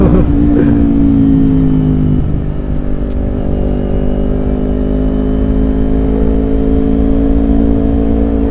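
An Indonesian motorcycle fitted with an aftermarket exhaust, heard close and loud as a steady engine drone, with pitch sliding and shifting as the throttle is worked during a midday ride.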